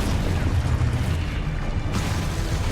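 Confringo fire-spell blasts in Hogwarts Legacy on PS5: a loud, continuous roaring, booming rush of explosive noise that barely changes across the whole stretch and nearly fills it.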